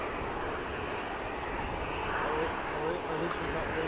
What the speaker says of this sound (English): Nice to have 2 prop departures together.